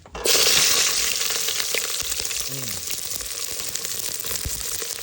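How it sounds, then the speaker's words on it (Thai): Sliced onion and chili drop into hot oil for a Thai omelette, bursting into a loud, steady sizzle that continues unbroken, with faint voices underneath. "น้ำมันร้อนแล้ว ใส่เลยใส่นั่น"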